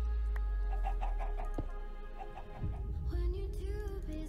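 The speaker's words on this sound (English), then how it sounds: "Or do the chickens have a certain breeding type?" Chickens clucking in the video game Minecraft SkyFactory 3, a run of short soft clucks over a steady low game drone with a few clicks and chirps, close and moderate, no talking.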